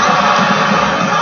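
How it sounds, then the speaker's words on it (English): Steady, loud roar of a basketball arena crowd, a dense continuous wash of noise with no single voice standing out, sustained without a break through the whole short stretch. "The crowd make noise so I get shook."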